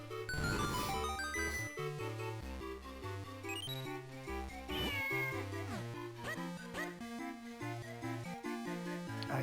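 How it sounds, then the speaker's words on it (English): A cat in the Zelda: Minish Cap video game meows over busy, bright game music that plays throughout. "And that cat's name is Scratcher."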